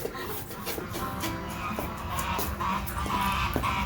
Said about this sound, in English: Come on, Serena, let's go let the ducks out.